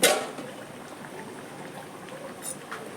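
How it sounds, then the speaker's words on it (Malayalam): Chicken curry boiling in a pot gives off a soft, steady bubbling hiss that stays faint and even throughout, with a brief louder burst at the start. "ചിക്കൻ കറി ഇവിടെ തിളച്ചിട്ടുണ്ട്."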